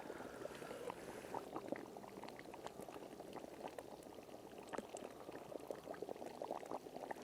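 Curry bubbles in a pot over an outdoor cooking fire in the hills, a faint continuous simmer of small pops and gurgles that holds steady throughout.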